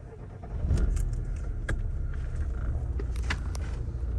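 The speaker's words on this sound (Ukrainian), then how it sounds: "Зараз заведемо автомобіль." A 2005 Daewoo Lanos engine cranks and catches, settling into a steady idle, with keys jangling and a few light clicks nearby.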